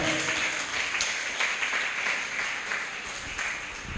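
A church congregation claps together during a Sunday worship service, a steady wash of hand claps that stays fairly even throughout, with no speech over it.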